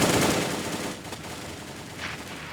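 P90 submachine gun fire in Counter-Strike on de_cbble during a grand final match: a dense, continuous rattle of rapid shots, loud at first and then easing slightly.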